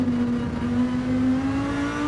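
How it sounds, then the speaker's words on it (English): Race car engine in the URL Ultimate Racing League video game, a loud, steady droning note held at high revs without a break. "You can just listen to the engine note now all the way."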